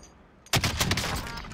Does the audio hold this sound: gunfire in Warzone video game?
yes